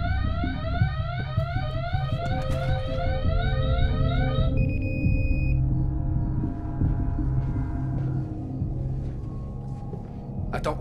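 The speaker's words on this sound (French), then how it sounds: "l'alarme s'est déclenchée" A building alarm rings in a rapid, repeating electronic warble over a low background rumble, then cuts out midway, leaving a dim ambient hum and scattered faint noises.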